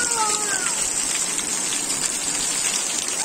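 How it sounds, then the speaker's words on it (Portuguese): Heavy rain pours steadily on a town in the interior of Rio Grande do Norte, Brazil, a dense, continuous hiss of drops on surfaces with no letup, loud and close throughout. "Chuvão aqui agora, pessoal, ó."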